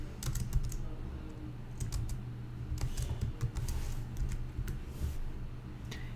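Code typed on a computer keyboard, close and moderately soft keystrokes in irregular bursts with short pauses, over a low room hum and no talking.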